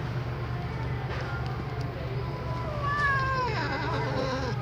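A cat with swollen eyes gives a single drawn-out, wavering meow near the end, close and clear over a low steady hum.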